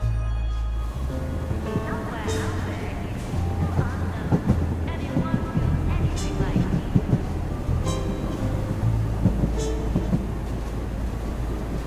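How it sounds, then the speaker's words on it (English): A train pulls into a station in the video game Duet Night Abyss, with a heavy low rumble, rhythmic rail clatter and occasional hisses and metallic screeches, steady and close. "Train's coming."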